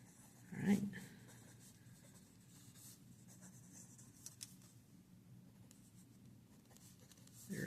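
A pencil sketches on paper in soft, continuous scratching strokes, quiet and close, with a brief louder bump near the start.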